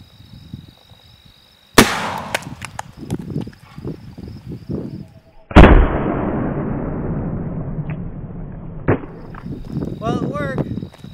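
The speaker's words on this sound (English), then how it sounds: "now we're gonna try out this rocket with the smaller 13 gram booster" Dummy RPG-2 rocket fired with a 13 gram booster: a sharp loud bang, then a second blast followed by a long fading whoosh, with people talking before and after.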